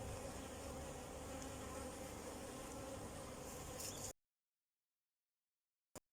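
Honeybees buzz steadily in an opened hive, a dense close hum for about four seconds before cutting off to silence, followed by a brief click near the end.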